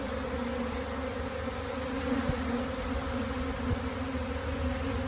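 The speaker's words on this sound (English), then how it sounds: "We just released the swarm." A released swarm of honey bees buzzes steadily and densely all around, a close, continuous drone with no talk over it.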